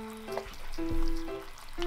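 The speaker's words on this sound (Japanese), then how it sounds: "こちらお肉がジューという音がですね聞こえてくるんですよ" Chicken thigh skin sizzling in a frying pan over low heat, a soft steady crackle with a few faint tonal hums in the background.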